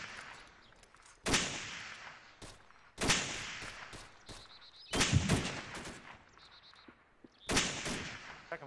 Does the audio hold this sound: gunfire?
yes